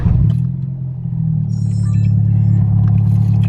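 A Honda Civic engine cranks and catches right at the start, then settles into a loud, steady, close-up idle rumble that holds evenly to the end.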